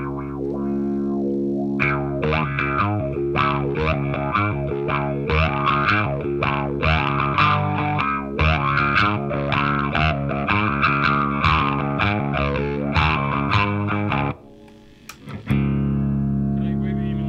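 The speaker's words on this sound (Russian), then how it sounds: "Мега Дисторшн." An electric guitar played through a Mega Distortion pedal rings out loud and sustained: chords and riffs with thick, saturated harmonics. Near the end it cuts out briefly, then comes back.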